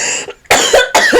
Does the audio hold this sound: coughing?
yes